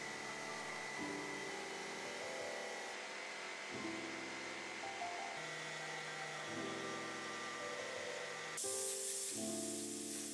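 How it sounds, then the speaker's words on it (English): A steady, loud hiss of an air compressor blowing dust from a laser-cut map, shifting slightly in tone, with a sharper blast near the end. "you just gotta use the compressor to blow them out."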